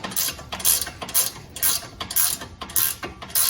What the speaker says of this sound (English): what's nice about these ratcheting tools